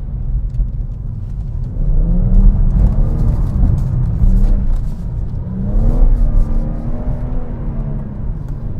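A BMW M140i accelerating hard in first gear on a wet road, its engine revving up in two strong surges with a deep rumble and rising tone, loud and close.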